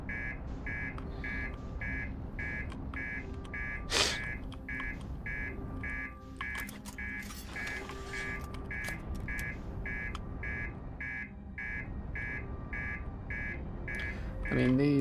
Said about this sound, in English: these alarms do not exactly sound great